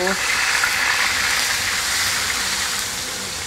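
Blended paste of onion, turmeric, ginger and galangal sautéing in a pan, a steady broadband sizzle that holds evenly throughout and fades slightly at the end.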